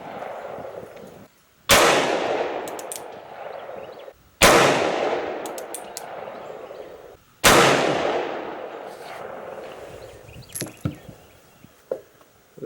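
Three loud, close gunshots from a USFA single action revolver at a shooting range, each sharp crack trailing into a long echoing decay, evenly spaced a few seconds apart, followed by a few faint clicks and handling noises.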